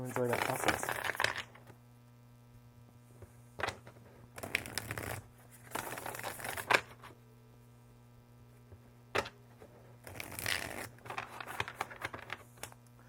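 Linen-finish tarot cards shuffled close up in three bursts of quick riffling, flicking and slapping, with quiet gaps and a steady low hum in between.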